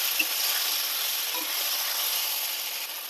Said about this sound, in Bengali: মাথা দুটো ভালো করে লবণ আর হলুদ দিয়ে ভেজে নেব।